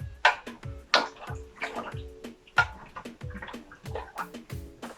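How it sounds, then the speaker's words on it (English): A spoon stirring a chia seed drink, a traditional Mexican beverage, in a glass, giving rhythmic liquid swishes and clinks repeating about twice a second, close and clear. "So you will have to just stir,"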